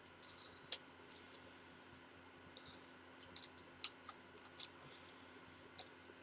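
Plastic Power Rangers Pachy Zord toy having its legs folded into place, giving a series of small, sharp plastic clicks and snaps in irregular bursts, close and fairly quiet against a faint background hum.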